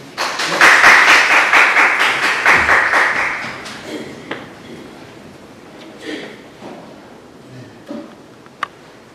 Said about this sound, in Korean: 박수로 좀 환영해 주십시오